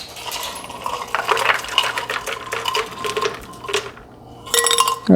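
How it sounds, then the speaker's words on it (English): Ice cubes are eased into margarita liquid in a shaker, clinking and clattering against the container in irregular bursts, close and moderately loud, with a brief lull before a final rattle. "and then ease the ice into it."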